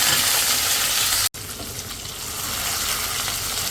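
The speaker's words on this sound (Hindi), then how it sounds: "ये आपका जो इतना मज़ेदार तड़का तैयार हो रहा है" Green chillies, ginger, garlic and curry leaves sizzle loudly and close in hot oil for a tadka. The crackling is steady and hissing, breaks off briefly, then resumes at a slightly calmer level.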